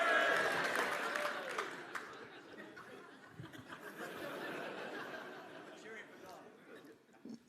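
A crowd at a 2020 ACT party campaign launch cheers and claps in scattered bursts, with chuckles and chatter mixed in and a voice talking over the noise.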